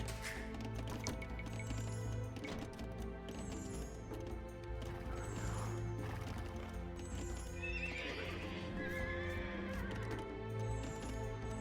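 Horses in Age of Empires 2 neigh and whinny repeatedly over clip-clopping hooves and busy game ambience, a dense, steady mix of in-game sounds with no voices.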